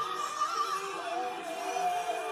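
Concert crowd at a show in Tacloban City, a steady wash of cheering, whoops and shouting from many fans filling the space, loud and continuous with a singing voice faintly mixed in.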